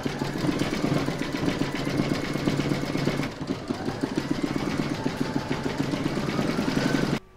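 An embroidery machine stitches an in-the-hoop pencil case, changing thread colour for the eyes, with a steady, fast mechanical rattle of the needle running continuously and close up, alone without speech, before stopping abruptly at the end.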